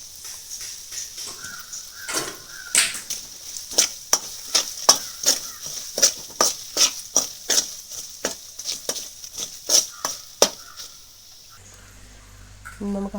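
Chili powder and fenugreek powder are stirred into a bowl of mango pickle: a long run of sharp, regular scraping taps from a spoon, about two per second, close and clear, before the sound cuts off near the end.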